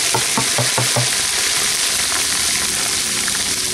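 Gooseberries darkening in hot oil while a herbal hair oil is made, giving a loud, dense, continuous sizzle and bubbling close by, with a few stirring knocks early on.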